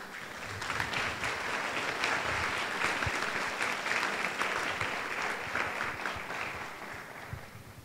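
An indoor audience gives a sustained round of clapping to mark an institute's fifth anniversary, dense and steady, then fading slightly toward the end.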